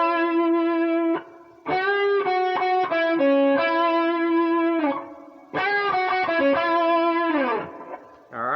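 An electric guitar through a distortion effect plays a blues lick with a slide and bent notes, two sustained phrases separated by a short pause, played alone with no talking.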